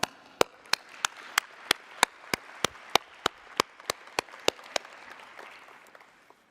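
Steady, evenly spaced claps ring out about four times a second for roughly five seconds at an international environment assembly's partnership forum as winners are welcomed to the platform, then fade to room tone.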